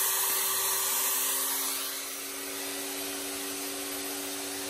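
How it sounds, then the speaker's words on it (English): Continuous loud motor whir with a steady hum, dipping slightly partway through, close to the listener and unaccompanied by voices: a blender running as a load on a 100Ah lithium battery drawing about 110 amps. "I'll do the blender."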